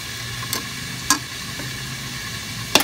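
Marinated pork steak fries in a pan, giving a low steady sizzle broken by a few sharp spatters and stirring scrapes, close and moderately loud with no voices.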